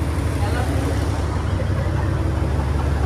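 Engine of a ferry boat carrying two-wheelers and cars across the water in Goa: a loud, steady low throbbing drone running continuously and close by, with no break.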